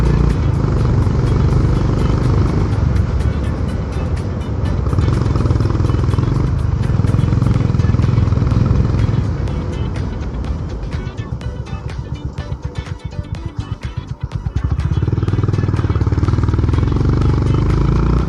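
Honda H'ness CB350 motorcycle exhaust under hard riding near top speed, a loud sustained engine roar with wind rush that dips briefly midway before swelling back, heard close and continuous.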